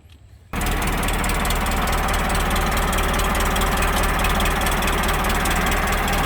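The diesel engine of a 6610 tractor cranks briefly and catches. It settles into a loud, steady, rumbling idle close by, with no voices.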